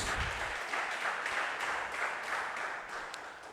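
A church congregation applauds during a Bible study service, steady and fairly faint clapping from many hands that continues throughout with slight swells.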